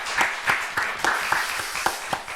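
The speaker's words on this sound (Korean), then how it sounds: "우리 한 박수로 한번 우리 경례하고 축복하도록 하죠" A church congregation applauding during a Sunday service, steady rhythmic clapping from a modest crowd, fairly close and continuous.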